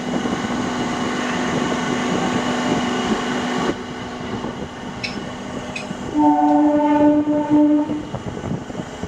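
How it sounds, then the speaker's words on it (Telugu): A MEMU train rumbles steadily departing Aler station, then a loud horn sounds with a sustained tone as the rolling noise continues, close by. "ఆలేరు నుంచి మన ట్రైన్ బయలుదేరిపోయింది"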